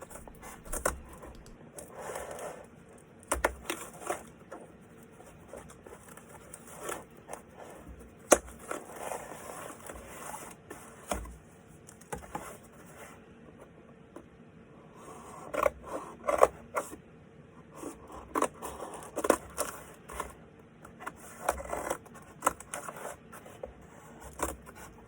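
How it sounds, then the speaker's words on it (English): Scissors cut down the creases of a cardboard piece, giving irregular scraping snips and crinkly rustles spread across the stretch at close range, fairly quiet and with no talking. "Now I'm going to take the scissors and cut down where all of the creases are in the cardboard."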